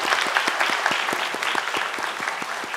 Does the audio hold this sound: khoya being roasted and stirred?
no